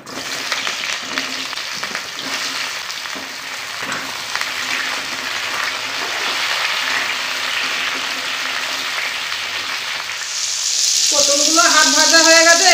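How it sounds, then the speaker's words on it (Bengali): Pointed gourd pieces fry in hot oil with a steady, close crackling sizzle that grows slightly louder, and a brief tonal sound enters near the end. "তেল গরম হয়ে গেছে, পটলগুলো ভেজে নিব।"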